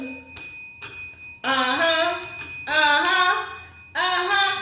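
Several bell strikes ring out loud and close, each with a sharp attack and a bright, sustained metallic shimmer that slowly decays, coming in irregular clusters with brief gaps between them.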